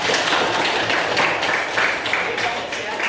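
A classroom group in a chemistry lesson breaks into applause, a dense, steady patter of many hands clapping at once, close and sustained for a few seconds.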